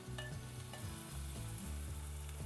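Green chillies and onions fry in a pan with a touch of turmeric, a soft continuous sizzle with occasional stirring scrapes, quiet and close.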